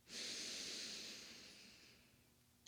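A deep, full inhale during a yin yoga session, a single long airy breath drawn in close to the microphone that slowly fades over about two seconds.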